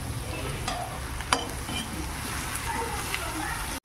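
Onion and tomato frying in a pan while being made into poha, a steady close sizzle with occasional stirring scrapes throughout.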